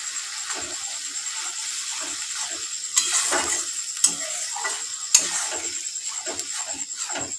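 Spice mix and a splash of water going into a hot pan for burnt-masala pabda fish: loud, continuous hissing sizzle with stirring scrapes and a few sharper spatters, close and steady throughout.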